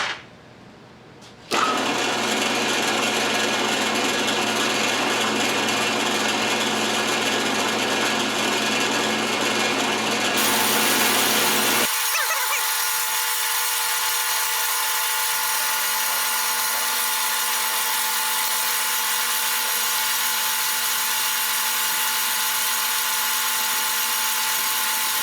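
A loud, steady electric drill whine starts abruptly and runs continuously while drilling metal, its pitch shifting partway through, working without pause.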